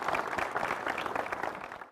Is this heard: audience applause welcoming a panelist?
yes